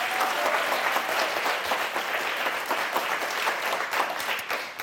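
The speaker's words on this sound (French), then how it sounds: "Et je voudrais qu'on applaudisse très fort Arlette et Aurélie." Loud, sustained clapping fills a French television word game studio as the audience applauds two female contestants, a thick, unbroken wash of hands that stays level from start to finish.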